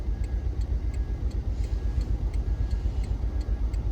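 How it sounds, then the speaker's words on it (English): Exhaust from a car muffler with a hole, a low throbbing rumble with a regular ticking pulse, steady and fairly close, with no voices. "Yeah, and I can hear my muffler."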